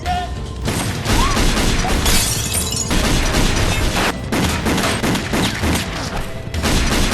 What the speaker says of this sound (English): The gunfire quickly attracts the police, and sirens blare.